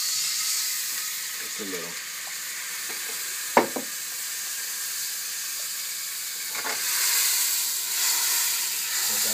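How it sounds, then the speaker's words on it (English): Sherry poured into a very hot pan while cooking risotto, giving a steady steamy sizzle and hiss that swells toward the end, with a sharp clink and a few quiet spoken words over it. "when our pan gets very hot, we just add the sherry"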